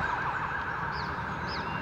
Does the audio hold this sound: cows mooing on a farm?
no